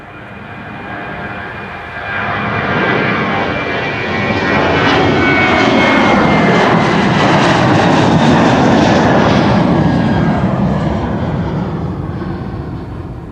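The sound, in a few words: KLM airliner at Amsterdam Schiphol airport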